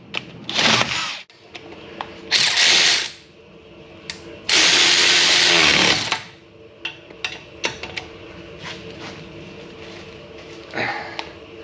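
A power tool tightens the wheel bearing bolts on a Saab 9-5 Aero in loud bursts, one short and two longer, separated by clinks and knocks of tools and parts in a workshop.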